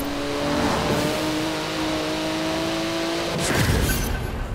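A tuned, lowered turbo Kombi accelerating in a racing video game, its steady engine drone holding for several seconds before a brief louder surge near the end, heard alone without talk.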